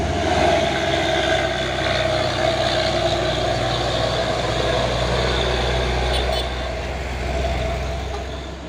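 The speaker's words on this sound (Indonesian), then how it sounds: "Dan di belakang juga ada truk box Hino Jember Euro 4." A Hino box truck built to the Euro 4 standard runs on the road with a steady, loud, low diesel rumble that holds evenly throughout and eases slightly toward the end.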